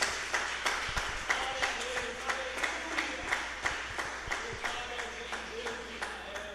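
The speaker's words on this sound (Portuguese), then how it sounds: "Palmas para Jesus." Church congregation clapping in praise, a rhythmic, evenly paced clapping at a steady beat with the group clapping together, over a background hum with voices mixed in.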